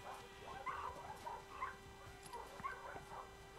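A dog in The Last of Us Part 2 video game whimpers and yips softly in repeated short whines, faint and steady over a low background hum.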